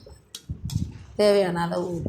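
A spoon scraping and clinking against a pan while potato masala is stirred, a few light taps followed by a voice speaking over the cooking.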